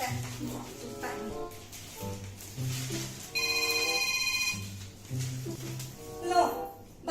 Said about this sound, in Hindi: लो बस गई फोन की घंटी।